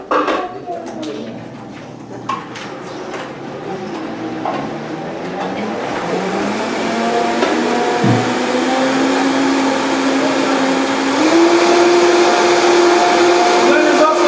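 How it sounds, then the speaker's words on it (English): A countertop blender whirs steadily during a lunch cooking demonstration, the motor rising and holding a sustained drone with a pitch step near the end, while people talk over it in the kitchen. "I'm going to throw on the blender and we're going to put it together."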